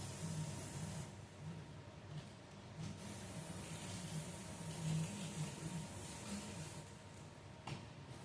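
Oven cleaner hisses steadily from an aerosol can onto a rusty cast iron pan, a continuous close spray with brief pauses and no talking.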